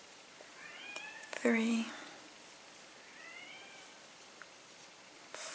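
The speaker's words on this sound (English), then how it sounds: "I don't know if you can hear my cat." A cat meows from behind a closed door, wanting to come in: two or three short, faint cries mixed with a brief louder sound and soft speech, over a quiet indoor hiss.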